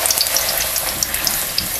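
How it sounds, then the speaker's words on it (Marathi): Puri for a Maharashtrian aamras puri meal frying in hot oil, a steady bright crackling sizzle with fine pops that holds evenly throughout at moderate loudness. "आता तेलामध्ये सोडते आणि चांगलं असं आपण आहे ना हे पुरी तळून घेऊया"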